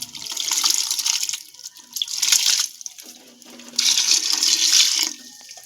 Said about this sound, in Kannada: ಅದಕ್ಕೆ ಸ್ವಲ್ಪ ನೀರು ಹಾಕೊಳ್ಳೋಣ.